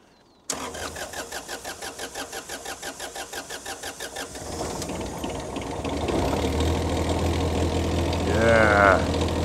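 An old auction-bought machinery engine turns over with a steady rhythmic cranking for about four seconds, then catches and settles into a loud, continuous running rumble, with a brief rising whine near the end.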